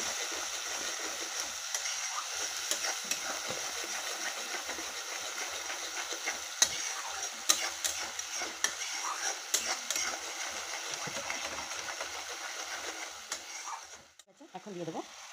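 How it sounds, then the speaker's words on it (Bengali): Onions fry in a pan, giving a continuous close sizzle broken by the scrapes and clicks of stirring. The sound fades toward the end. "পেঁয়াজটা একটু ভাজা হতে থাক।"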